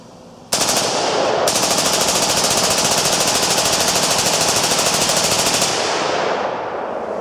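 A SAR-80 rifle fires a long, sustained burst of about 60 rounds, loud and close, the rapid shots running together almost without pause for roughly five seconds before stopping abruptly.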